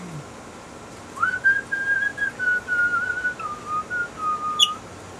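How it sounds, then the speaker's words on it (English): A lone person whistles a slow, steady melody, the clear tone holding and gliding through several sustained notes over a quiet room. "Guarantee you like the whistling better than the singing"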